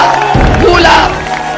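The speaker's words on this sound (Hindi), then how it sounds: "मगर ये तालियां आप सुन सकते हैं।" A crowd at a political rally in Pakistan bursts into loud cheering and applause, a sudden close swell with whoops rising over the background, then easing slightly.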